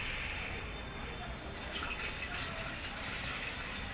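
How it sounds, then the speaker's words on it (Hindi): Ganga water is poured from a jug into a kalash during a Navratri puja, a steady, soft splashing stream that runs for a few seconds at close range and low volume. "सर्वप्रथम गंगा जल डालेंगे, गंगा जल, फिर जल"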